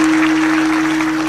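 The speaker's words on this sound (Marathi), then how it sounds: "मनोज दादांसाठी एकदा जोरदार टाळ्या वाजवा" An audience applauds for Manoj dada at a comedy kirtan gathering: a dense, steady wash of clapping, fairly loud and unbroken, with a constant low hum underneath.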